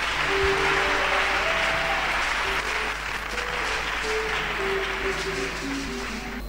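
A church congregation in Ouagadougou applauds during a Christian Alliance service, steady dense clapping with some cheering voices and faint sustained tones underneath, continuing evenly throughout.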